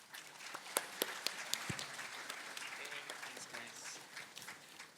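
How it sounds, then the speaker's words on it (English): Conference keynote audience at a GDG Chennai DevFest breaking into sustained applause, a dense wash of many hands clapping at moderate distance, with sharper nearby claps standing out. "Let's give up a really big round of applause for them."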